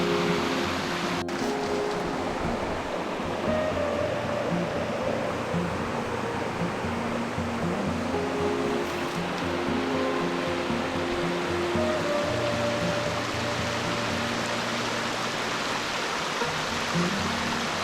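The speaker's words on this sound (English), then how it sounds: "we are running alongside this beautiful creek" Creek water flows alongside a hiking trail in a South Carolina state park, a steady broadband rush and gurgle that stays constant throughout, with no voices.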